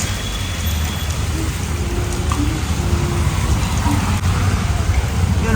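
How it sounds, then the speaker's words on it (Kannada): Steady, heavy rain hissing continuously, close and loud, with no break. "ನಾವು ಬಂದು ಹಾಫ್ ಆನ್ ಅವರ್ ಆಯಿತು ಇನ್ನೂ ಈ ಮಳೆ ನಿಂತಿಲ್ಲ"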